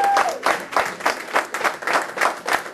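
A church congregation claps together in a steady, rhythmic beat, with about ten crisp bursts of applause ringing through the hall at an even pace.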